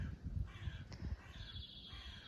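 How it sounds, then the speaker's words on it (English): Outdoors by a roadside, a crow gives a few faint, distant caws over steady wind and low rumbling background noise. "You hear that bird?"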